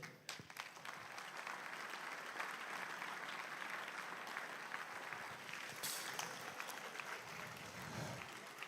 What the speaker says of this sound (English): Oh, you're not clapping well.